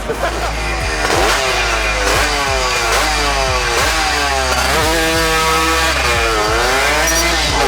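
A two-stroke Honda Sonic with a Tena engine revs hard and close, its raspy buzz climbing and dropping in repeated throttle blips and sweeps, loud and continuous with no talk over it.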